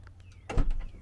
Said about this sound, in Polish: Pilotem otwierają się boczne drzwi.